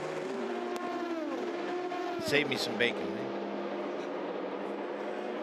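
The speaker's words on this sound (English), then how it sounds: "There's the number 3 car back into the pits" Race car at the Le Mans 24 Hours sweeping past with a high engine whine that bends downward in pitch, then a brief burst of mechanical noise, all under continuous race commentary.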